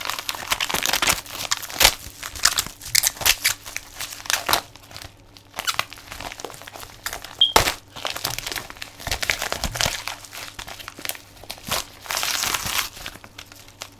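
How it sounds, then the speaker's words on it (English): Paper envelope being torn and crumpled open to unbox a PlayStation 4 game, a long run of close, loud crinkling, ripping and crunching bursts with brief pauses between them. "The envelope is about to get ravaged."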